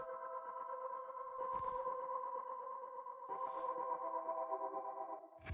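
A music sample run through portal, echo, effect drag, halftime and pan effects: a sustained layered tonal drone with shimmering harmonics, interrupted by two bursts of noisy swooshes and a pitch shift near the end.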